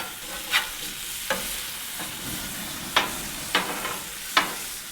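Smash burgers and onions cooking on a gas grill griddle give a steady close sizzle, broken by several sharp scraping spatula hits and flips spaced a second or so apart, with no talking.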